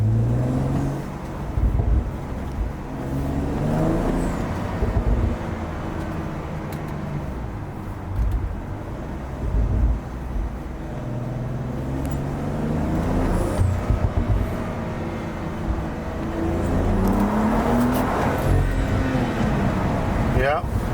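A BMW F/G series car engine in sport mode drones and rises through several accelerations, heard from inside the cabin at moderate volume, with a person talking over parts of it.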